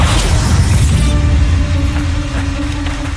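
Bombarda explosion spell cast in Hogwarts Legacy: a loud, dense blast with crashing, shattering debris in the first second, then a rumbling tail with faint ringing tones as it fades.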